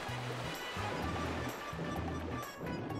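Splashing water from swimming in the video game Super Luigi Galaxy, a steady wash of surf-like noise under looping game music.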